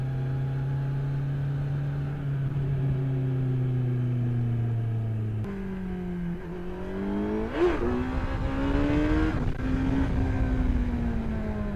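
A 2018 Kawasaki Z900 motorcycle engine hums and climbs in pitch while riding at low speed, then drops with a gear change and rises again through a quick throttle blip, steady, close and fairly loud, with no talk.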